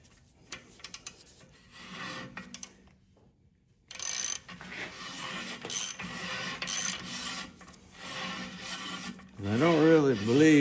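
Ring ridge cutter scraping the top of a small block Chevy cylinder bore, heard as intermittent quiet rasping and ticking passes with pauses, ending in a louder wavering scrape.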